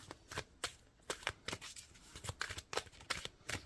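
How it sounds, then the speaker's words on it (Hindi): Angel oracle cards being shuffled by hand at close range, making a crisp, riffling patter of quick bursts at an uneven rhythm, with no talk. "अब मैं एक कार्ड निकालूंगी एंजल का"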